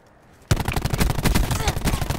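After a short quiet moment, loud rapid automatic gunfire bursts out in a 1v1 video game match and keeps up as a dense, continuous rattle until the end.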